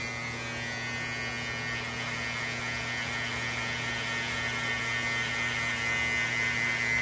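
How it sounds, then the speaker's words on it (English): Babyliss hair clippers with a detachable battery run during a drop-fade haircut, giving a steady, unbroken electric buzz at an even level throughout. "All these Babyliss, for some reason, they're extra loud, but they get the job done."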